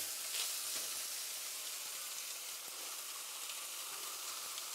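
Crayfish sizzling on a hot plate in a little olive oil with salt and pepper, a steady close hiss of frying with occasional faint pops and crackles, continuous and alone.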